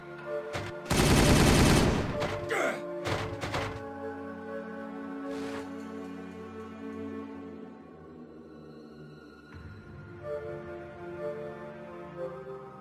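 Warhammer 40000 battle gunfire: an intense burst of rapid automatic fire, then several shorter scattered shots, trailing into a low rumbling battlefield bed for the remaining seconds.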